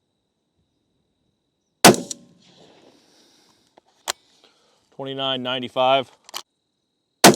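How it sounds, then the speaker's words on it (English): Rifle shots from a Ruger American Gen 2 Ranch chambered in .22 ARC, three sharp loud cracks spaced apart, each with a short ringing tail, and a voice speaking briefly between them. "there's the 6 shots with the ELD-vt from the V match"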